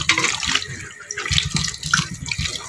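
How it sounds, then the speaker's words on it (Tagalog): Saba bananas are rinsed under a running faucet, water splashing steadily and close by into a sink with no voices. "Kaya hugasan lang muna natin ang ating saba, dahil malagkit yung kanyang dagta."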